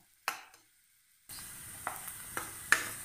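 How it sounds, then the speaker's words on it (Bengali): Onion and green chili hit a hot pan for masala pasta: a couple of light clinks, a brief quiet spell, then a steady close sizzle of frying with occasional utensil taps and scrapes. "পেঁয়াজ কাঁচা মরিচটা হালকা করে ভেজে নেব একটু নরম হওয়া পর্যন্ত"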